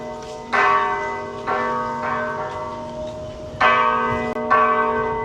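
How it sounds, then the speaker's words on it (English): A monastery bell in China rings in several distinct strikes, each ringing out with a long resonant decay, close and clear, in an uneven rhythm. "The bell is ringing"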